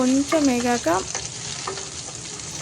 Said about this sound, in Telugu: ఆ తాలింపులో కొంచెం కరివేపాకు వేస్తే అవి చిటపట అనేలోపు పచ్చిమిర్చి వేసుకున్నాము